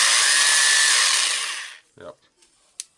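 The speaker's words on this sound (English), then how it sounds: "now it's a hammering with a drilling" A 1998 Makita HR2410 rotary hammer drill running in hammer-and-drill mode, a loud steady whir with a constant pitch that cuts out and leaves a few faint clicks and knocks.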